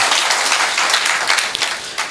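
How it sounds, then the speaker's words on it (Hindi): Loud, dense applause from a poetry recital audience that runs unbroken throughout, with no voices over it. "एक बार जोरदार ताली बजाइए"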